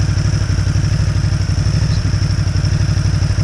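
A Ducati Hypermotard 939 engine idles close by, a steady, even mechanical throb through the exhaust with a faint whir on top, constant and unbroken.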